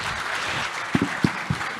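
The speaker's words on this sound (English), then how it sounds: "Can we have a big round of applause?" Applause from a summit audience, a dense patter of clapping lasting under two seconds with a few louder nearby claps standing out.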